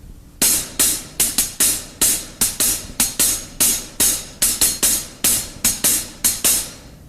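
A hi-hat plays a slow ostinato pattern alone, crisp separate strokes in an irregular repeating rhythm, close and fairly loud with no talking.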